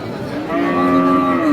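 A ten-month-old Friesian cross bull calf gives one long, loud moo close by at a cattle market in Raniganj, rising in strength, over faint background noise.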